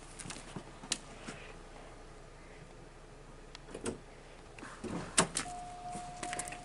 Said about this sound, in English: Georgie, can you open the driver's side door?